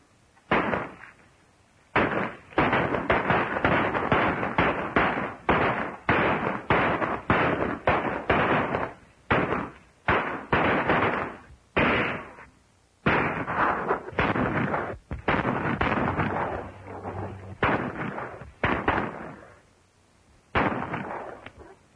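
Rapid, loud volleys of gunfire crackle through a shootout in an old black-and-white western film, with the shots running almost without a break and only short pauses between bursts.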